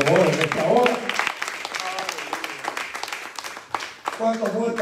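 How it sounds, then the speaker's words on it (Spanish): A church congregation applauds during a service, a dense patter of clapping mixed with voices and shouts from the crowd, loud and close throughout. "Dile un aplauso al Señor, hermano, por favor, en esta hora."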